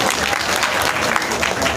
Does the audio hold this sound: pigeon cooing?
no